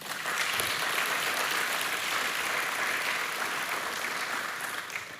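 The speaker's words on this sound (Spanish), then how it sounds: "Démosle un aplauso al Señor." A congregation at a Sunday sermon claps together in sustained applause, a steady, even roar of hands that carries on for several seconds without speech.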